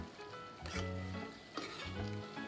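Kantola bhaji with fresh grated coconut and coriander being stirred in a pan, a quiet scraping and shuffling with a few brief louder scrapes, close and alone.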